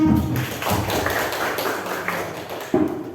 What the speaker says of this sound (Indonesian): Kita berikan aplaus untuk kelompok 4.